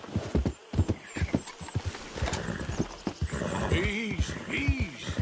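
A horse in Red Dead Redemption 2 gallops with rapid hoofbeats and lets out a couple of whinnies, while a voice talks over the action throughout.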